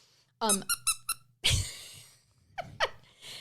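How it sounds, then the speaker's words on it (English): A squeaker sewn inside a crocheted toy gives a run of about four quick, bright squeaks as it is squeezed, followed by breathy laughter-like sounds and a couple of sharper squeals, fairly close and clear. "just squeaked one of our crocheted peni"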